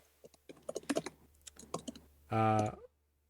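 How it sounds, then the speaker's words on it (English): Quick, irregular computer keyboard typing clatters in bursts, close and fairly crisp, before a short loud tonal vocal sound. "Someone's typing. Sorry. That's me being clickety."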